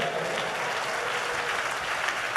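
A church congregation at a deliverance service claps together in a sustained burst of applause, dense and even, heard from within the crowd.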